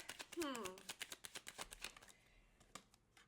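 A quick riffle of tarot cards shuffled close up, a burst of rapid papery flicks followed by a few softer slides and taps.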